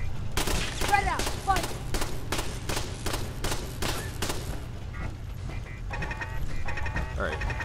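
Turret gunfire in Fallout 4, a rapid series of sharp automatic shots in steady bursts for several seconds, followed by softer battle noise and scattered sounds.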